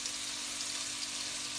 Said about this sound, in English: this is the prawn, which I'm just pan frying them off at the moment